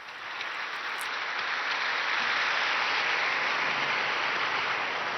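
A large crowd of pilgrims applauds steadily outdoors at a papal Angelus blessing, dense clapping that swells in and holds evenly for several seconds.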